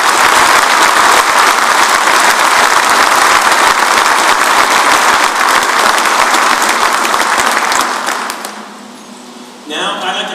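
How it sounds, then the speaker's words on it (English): Big round of applause from the audience at a military change of command ceremony, a loud sustained crowd of clapping for a departing general and his family that fades out near the end before a voice starts. "I'd like to give a big round of applause for General Hicks and his family"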